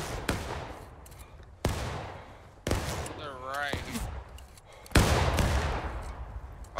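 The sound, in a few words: musket volley gunfire in the video game War of Rights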